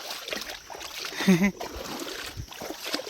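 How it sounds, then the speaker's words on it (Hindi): Feet wade through the shallow water of the Narmada river at its edge, making a few soft splashes and sloshes under faint background sound. "पानी में चल के देख लेता हूँ"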